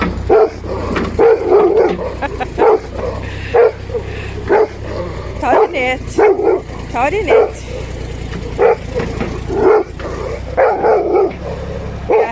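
A dog barks frantically in repeated bursts near an excavator that is digging, while people shout over the barking and a low engine rumbles underneath.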